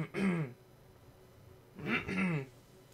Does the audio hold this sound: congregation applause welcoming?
no